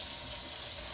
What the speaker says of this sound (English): Rinse that can, get everything out.